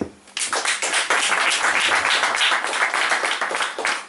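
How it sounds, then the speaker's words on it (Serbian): Applause from an audience at a poetry reading event, a dense burst of many hands clapping that starts abruptly, holds steady and loud for about four seconds, then cuts off. "Ova divna žena stvarno zaslužuje veliki aplauz."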